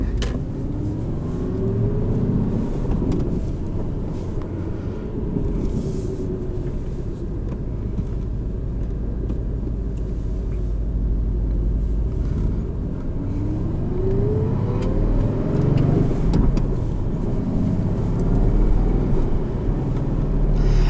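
A 2021 Aston Martin Vantage V8 with a manual gearbox drives along, its engine holding a steady rumble inside the cabin while revs climb and drop through several shifts, with no talk.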